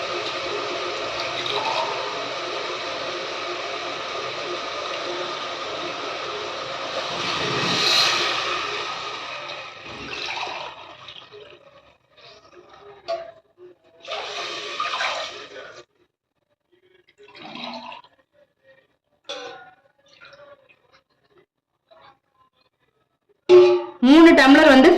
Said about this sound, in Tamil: தேங்காய் பால் சேர்த்துக்கலாம்.